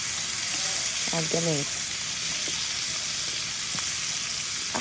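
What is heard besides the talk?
chicken pieces frying skin-side down in oil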